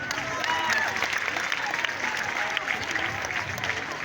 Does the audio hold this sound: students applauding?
yes